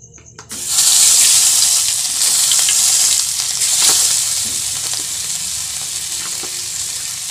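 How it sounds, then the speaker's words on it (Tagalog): Onion hitting hot oil in a pan after garlic, a sudden loud hiss settling into a steady, bright sizzle that slowly softens, with faint stirring clicks underneath. "gigisa na natin ang sibuyas"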